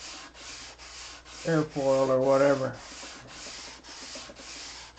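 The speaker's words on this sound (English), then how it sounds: "you could sand an arc in your sanding block and make an even arc" A sanding block rubs back and forth over wood in steady, even strokes while building a model airplane canopy, the rasping rhythm continuing throughout; someone speaks briefly partway through.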